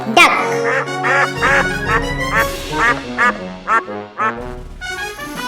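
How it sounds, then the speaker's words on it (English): A duck quacks repeatedly in a children's farm-animal cartoon, a series of loud, nasal, honking calls in an uneven rhythm, close and prominent with short gaps between them. "D-U-C-K. Duck."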